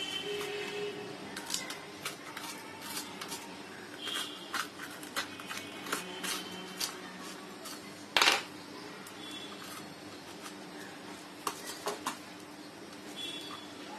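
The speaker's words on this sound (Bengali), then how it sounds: "আমি চামচ দিয়ে ভিতরের বিচিগুলি ফেলে দিচ্ছি" A small spoon scoops seeds out of halved green peppers, making faint, scattered clicks and light scrapes with one louder knock against a quiet room background.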